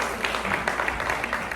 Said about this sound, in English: Let's give a round of applause to her team that she's working with